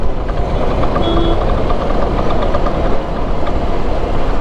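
A loose rear tyre hugger on a motorcycle knocks while riding on a Leh Ladakh trip, a repeated tapping buried in continuous engine and road noise.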